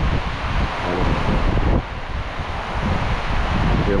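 Strong typhoon wind from Typhoon Tino roars steadily past the microphone near coconut trees, a loud continuous gusting rush with a brief dip midway and no voices.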